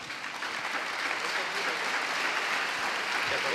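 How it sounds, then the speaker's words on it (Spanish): Steady, dense applause from a church congregation praising the Lord, continuous and fairly loud throughout with no gaps. "Den un aplauso fuerte al Señor"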